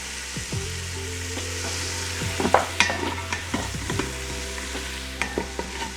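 Potato soup ingredients cook down in an Instant Pot on sauté, a steady low sizzle with scattered spoon scrapes and light clinks against the pot, close and moderately loud with no talking.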